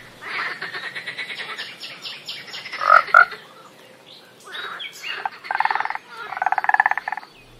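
Frog croaking in the video game Minecraft, a few short ribbity calls and chirpy bursts spaced across the clip, fairly close over a quiet ambient background, with no talking.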